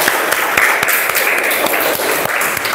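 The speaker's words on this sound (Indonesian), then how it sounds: "Tepuk tangan untuk kelompok 2." A classroom of students applauding a presenting group, dense steady clapping sustained throughout at close range, with no talking over it.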